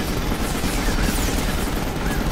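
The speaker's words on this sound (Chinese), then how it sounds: "原来揿实个掣就开枪" Rapid gunfire in Final Fantasy XV, a continuous loud burst of shots lasting a couple of seconds with no pauses, over a dense wash of game noise.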